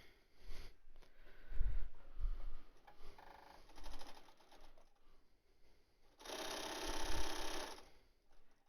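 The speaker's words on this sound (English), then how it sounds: "So I'm going to sew a 1/2 inch seam" A sewing machine stitches a half-inch seam around a fabric face mask, in two bursts of steady rapid needle chatter, the second longer and louder, with quieter handling noise between.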